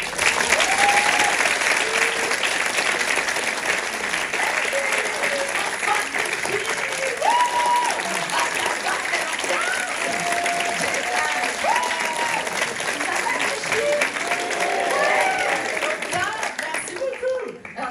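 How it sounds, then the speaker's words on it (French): Thunderous audience applause greets a comedian taking the stage for a stand-up opening act, a long loud roar of clapping with cheers and whoops mixed in, fading slightly near the end. "un tonnerre d'applaudissements pour Anouchka Rava"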